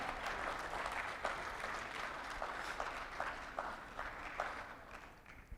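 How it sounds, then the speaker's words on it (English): Audience applauding at a traders' conference honouring award winners, a sustained wash of clapping with a few louder individual claps standing out, steady throughout and fading slightly at the end. "Please give them a big round of applause."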